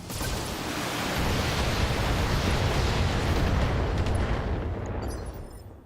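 Massed BattleMech weapons in the BattleTech game let loose together, a dense roaring barrage of blasts and rumbling fire that swells quickly and holds steady for several seconds before tapering off, with no talking over it.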